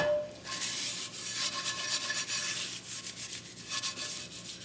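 Cooked breakfast burrito filling is scraped out of a pan into a bowl, making close, repeated rubbing and scraping strokes in an uneven rhythm. No voices are heard.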